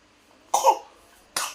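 Two short coughs from a person, the first louder and rougher, the second about a second later, close and clear over a near-silent background.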